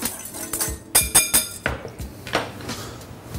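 Food seasoned with salt, black pepper and shichimi is tossed in a bowl with a utensil, giving a steady run of close clinks, taps and scrapes of varying loudness.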